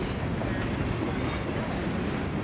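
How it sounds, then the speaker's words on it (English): CSX freight train rolling through Union City, a steady close rumble of cars with clickety-clack over the rails, loud and unbroken with no talk. "A train moving through the wind"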